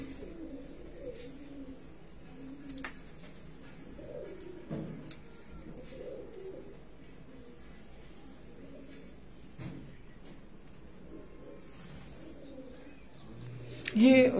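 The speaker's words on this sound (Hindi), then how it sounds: "ये बेसिकली कसूरी कबूतर है" Kasuri pigeons on a Faisalabad rooftop give soft, repeated low coos that run steadily throughout, with faint voices nearby and a louder rustle near the end.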